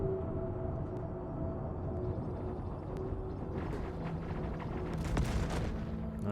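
Gunfire in the space combat game Star Citizen, a steady dense wash of distant shots and booms over a constant rumbling background, with no distinct close bursts.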